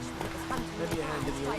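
Hooves of Roach, a horse in The Witcher 3: Wild Hunt, clopping in a short uneven run of steps over a steady low game ambience, with a voice talking over it.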